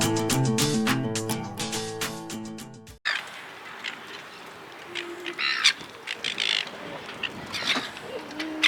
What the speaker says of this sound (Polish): widzimy, że mewy nas atakują